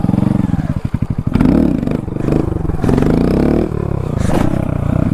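Honda Grom motorcycle revving hard during a street stunt, loud close engine bursts rising and falling with clattering and scraping, a rider speaking briefly over it.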